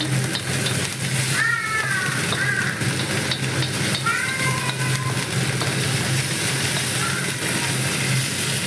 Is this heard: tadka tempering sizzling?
yes